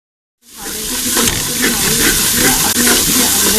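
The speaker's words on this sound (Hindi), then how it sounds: "अब मैं इसके अंदर एक प्याज डाल के उसे सौते कर लूँगी।" Chopped onion sizzling and hissing steadily in hot oil for a gram flour curry, with a sudden loud start as it hits the pan and a constant close frying crackle throughout.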